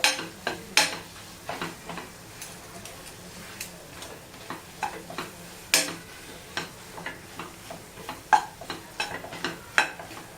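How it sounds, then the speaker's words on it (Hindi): Ground lentils roasted in ghee and stirred in a pan, with a quiet sizzle under a series of distinct spatula scrapes and taps coming at an irregular, fairly steady pace. "पिसी हुई दाल को ऐड करके इसको हम भून लेंगे अच्छे से"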